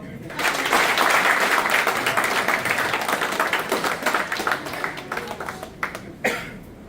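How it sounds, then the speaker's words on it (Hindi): Audience applause and scattered clapping at a group activity session, a dense, steady patter of hands that gradually thins into separate claps before fading out. "तालियां।"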